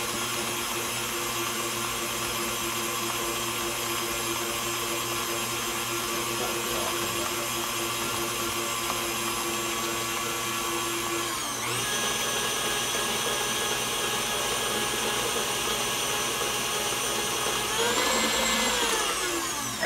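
An electric mixer beating cheesecake batter, a loud steady whirring drone that runs without a break, with the motor pitch shifting slightly near the middle and again near the end.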